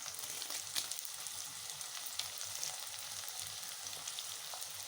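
Two sprigs of curry leaves fry in hot oil in a pan for karuveppilai kuzhambu, giving a soft, steady crackling sizzle with small pops.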